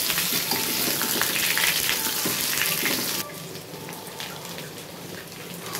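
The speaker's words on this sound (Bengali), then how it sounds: "কুমড়োগুলো দিয়ে আমি কিছুক্ষণ আবারও ভালোভাবে ভেজে নেব।" Pumpkin pieces and potatoes fry in a pan, a continuous close sizzle with crackling oil and occasional stirring, dropping slightly in level partway through.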